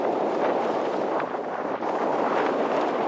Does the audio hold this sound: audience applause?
no